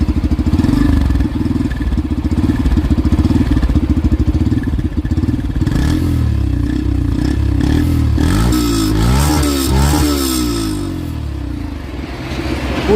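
A Yamaha FZX 150cc motorcycle engine idles loudly up close, then revs up and down several times with rising and falling pitch before settling back.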